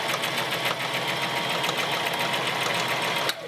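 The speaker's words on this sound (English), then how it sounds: "I'm going to do a tacking stitch." A sewing machine stitches a tacking stitch on a dress facing, running steadily with a fast mechanical rattle for several seconds before abruptly stopping near the end. No voices are heard.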